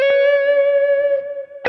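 Short electric guitar lick played on the neck pickup through a clean Jam Up Pro tone with effects, one held note ringing out smoothly before a fresh pick attack at the end.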